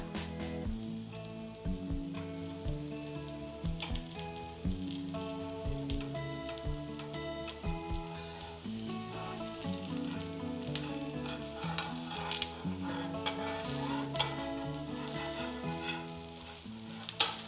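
Mung bean dosa batter sizzling steadily on an oiled, hot griddle over high flame, a continuous close frying hiss with no talking.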